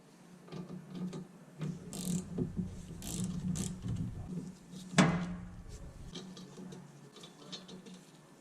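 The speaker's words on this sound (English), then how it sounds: "we're going to remove the two caliper bolts, one at the top" A ratchet wrench loosens the brake caliper bolts on a Ford Mustang, with repeated clicking pawl sounds and a sharp metallic clunk midway, close and moderately quiet.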